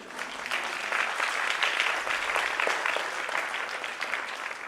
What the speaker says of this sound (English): After every thanks, there has to be a lot of claps.